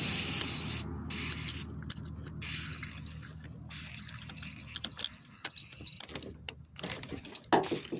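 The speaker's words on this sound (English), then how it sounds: "Touch it up with a little bit of WD-40 here." Aerosol can of WD-40 hissing onto a corroded side-mount car battery terminal in a few short, fairly quiet bursts with pauses between them.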